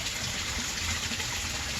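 Garden pond waterfall and filter running at the start of spring, a steady broadband rush of falling water, close and constant throughout with no talk.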